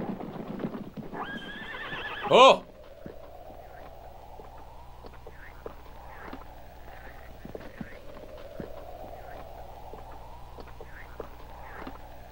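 Horses at a lake give a loud, close whinny early on, followed by a steady irregular clip-clop of hooves on hard ground and soft snorts at a moderate distance.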